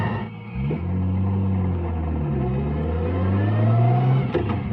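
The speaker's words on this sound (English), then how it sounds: "it's got enough grunt down low to scoot through traffic and get a move on." A nine-second drag-tuned GTR accelerates through traffic, its engine loud and close, a low rumbling drone whose pitch climbs steadily, dips briefly, then rises again before easing off.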